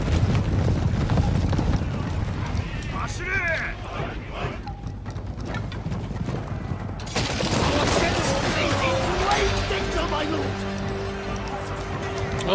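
Rapid hoofbeats of horses galloping in the video game Shogun 2: Total War, over a dense wash of battle noise, with an excited voice talking over it.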